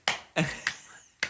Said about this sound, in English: This is the noise of me clapping my hand on my knee.